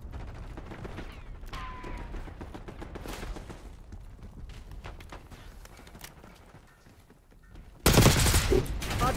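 Video game gunfire in an online multiplayer match, faint bursts of rapid shots through most of the stretch, then a loud, close automatic burst near the end, with a little talk mixed in.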